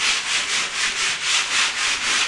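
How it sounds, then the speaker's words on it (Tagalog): Coarse number 60 sandpaper is rubbed by hand over a painted, waxed surface in a steady back-and-forth rhythm, giving a close, loud rasping hiss that swells with each stroke. "Yung magaspang naman to na liha eh."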